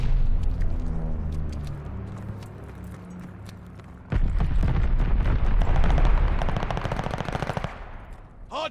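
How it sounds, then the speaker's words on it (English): Friendly bombing run in Call of Duty Vanguard multiplayer: after a quieter stretch, a sudden heavy barrage of rapid explosions and gunfire erupts and rumbles on loudly for several seconds. "Friendly bombing run on the way!"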